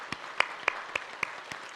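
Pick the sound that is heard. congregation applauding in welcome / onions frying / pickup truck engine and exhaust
congregation applauding in welcome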